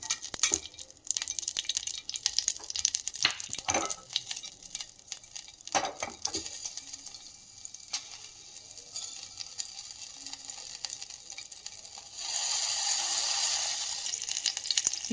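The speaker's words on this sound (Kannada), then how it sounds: "ಮೊದಲಿಗೆ ಮೆಣಸಿನ್ಕಾಯಿಯನ್ನು ಫ್ರೈ ಮಾಡ್ಕೊಳ್ಳೋಣ." Green chillies fry in a pan for a mint buttermilk recipe, giving a steady hiss with scattered stirring scrapes and clinks, and the sizzle swells louder near the end.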